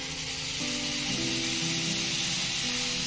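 Puffed rice dosa batter poured onto a hot clay pan sizzles in a loud, continuous hiss, close up, with a faint steady tonal hum underneath.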